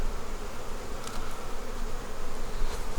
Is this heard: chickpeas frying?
no